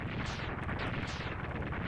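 Rumbling, crackling video game explosions from Mega Man X2, a continuous burst of overlapping booms and rapid pops at steady loudness, with no talking over them.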